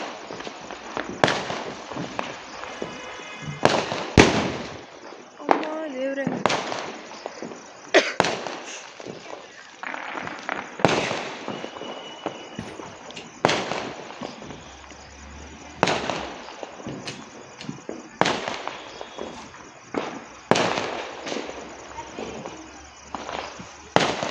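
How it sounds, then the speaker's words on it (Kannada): Diwali firecrackers burst one after another near a house: a dozen or so sharp, loud bangs at irregular intervals, some close and some farther off, with crackling between them. "ಫುಲ್ ವಿವಿ ಪಟಾಕಿ ಸೌಂಡ್ಸ್ ಫೆಸ್ಟ್ ಆಫ್ ಲೈಟ್ಸ್ ಹೋಗಿ ಫೆಸ್ಟ್ ಆಫ್ ಪಟಾಕಿ ಆಗಿಬಿಟ್ಟಿದೆ ಈ ದೀಪಾವಳಿ"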